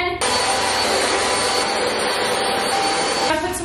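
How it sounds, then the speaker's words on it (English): A vacuum cleaner running in a living room, a loud, steady high-pitched whine with a constant tone that starts abruptly and cuts off near the end, no talking over it. "I'm gonna go ahead and vacuum our entire living room off again."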